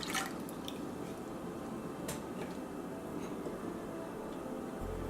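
Four cups of milk pour into a pot on a stove set to low heat, making a soft, continuous liquid splash with a few faint drips.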